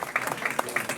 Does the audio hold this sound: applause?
yes